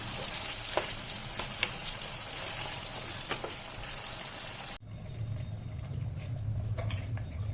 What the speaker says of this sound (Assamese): মাংসখিনি ফ্ৰাই কৰা মোৰ হৈ গ'ল